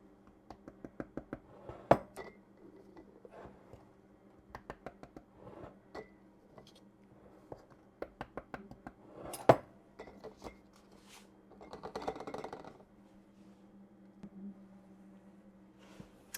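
Flour scooped and poured into glass jars with a measuring cup, sharp clinks and taps of metal against glass in quick bursts, a soft rustling pour in the middle, close and fairly quiet.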